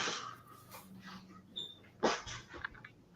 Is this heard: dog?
yes